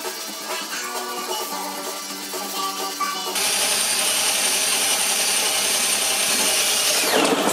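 Sanding pads of varied grits rubbing on an old metal snare drum, first a lighter scrubbing with ringing metallic tones, then a louder, steady abrasive rasp close to the microphone.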